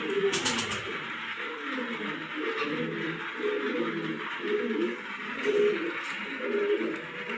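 Cooing from a group of fit racing pigeons held for sale, a steady low warbling that runs throughout, close and moderately loud, with some background noise and no clear talk.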